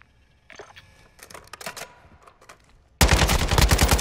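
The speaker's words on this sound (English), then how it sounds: "Taking effective fire!" Gunfire in Call of Duty MW2: scattered distant shots and short bursts, then a sudden loud, dense stretch of sustained automatic fire close by.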